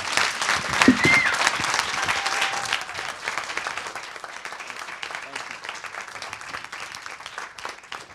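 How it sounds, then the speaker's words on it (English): Audience applause after a talk on the future of career services, a full, sustained round of clapping that starts loud and slowly fades, with a brief voice near the start. "Let's give Jullien one more big round of applause"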